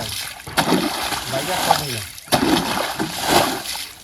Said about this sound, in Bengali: এই চাতরের জল ফেলে দেবো সব ফেলে দেবো